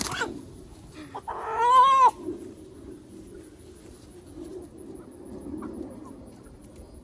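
A young free-range rooster gives a short, strained crow, close and loud, after which only quiet yard ambience and faint rustling remain.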